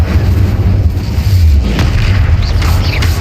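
The Incendio fire spell is cast in the video game Hogwarts Legacy, producing a loud, sustained booming rumble that fills the whole stretch of game audio without any talking.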